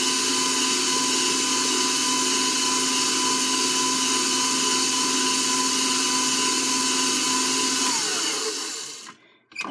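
Electric mixer whirring steadily through thick blueberry cobbler batter, a loud constant motor drone that stops abruptly near the end.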